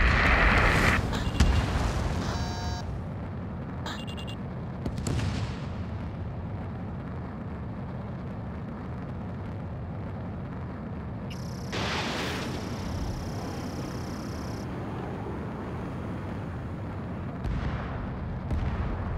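Missile launches and explosions from the Ace Combat 7 flight combat game rumble loudly with deep booms and blasts, a sustained roar throughout, with a sharp burst near the start and another swell past the midpoint.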